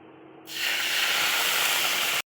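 Water poured into a pan of fried semai sets off a loud, sudden burst of steamy sizzling hiss that holds steady for nearly two seconds, then cuts off abruptly.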